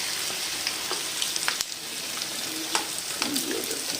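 Bread pakora fries in hot oil with a steady, close hiss and crackle, broken now and then by soft scraping and clinks from turning the pieces.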